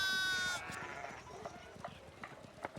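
Sheep bleating on a farm in the medieval narrative video game Pentiment, short wavering calls over soft ambient game sound after a brief musical chime at the start.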